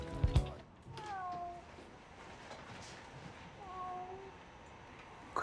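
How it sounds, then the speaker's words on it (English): A cat meows twice, one call near the start and another a few seconds later, both fairly clear against a quiet outdoor background with a faint thump at the very beginning. "Possums don't fucking meow."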